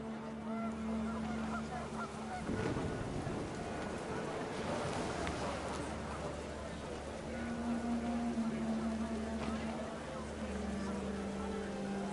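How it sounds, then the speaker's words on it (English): Panicked geese honk repeatedly in a steady stream of calls, set against a constant droning background with a rain-like wash and a burst of broadband noise partway through. "panicked geese appeared and quickly went"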